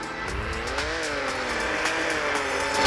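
Cars in the Roblox game Car Crushers 2 drive with a steady, loud engine drone that rises and falls in pitch, with a tire-squeal edge, heard without talk.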